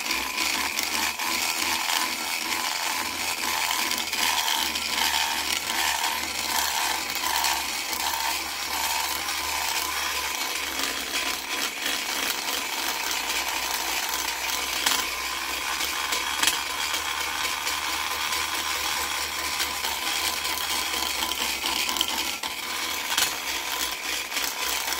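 Continuous high-pitched grinding and rasping from a Makita die grinder with a double-cut burr porting an iron Vortec cylinder head's short side radius, steady and close without any talk.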